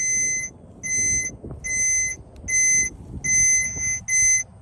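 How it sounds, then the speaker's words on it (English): A high electronic beeping tone pulses on and off in roughly half-second bursts, steady and clear over low rumbling background noise. "let's go ahead and use our tracker and see where this main line is"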